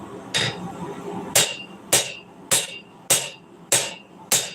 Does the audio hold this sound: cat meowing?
no